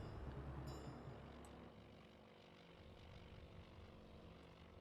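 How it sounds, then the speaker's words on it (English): Propeller bomber engines returning in the naval strategy game Task Force Admiral, a low droning aircraft rumble that is strongest at the start and then settles into a steady, moderate hum with no talk. "That's a bomber returning."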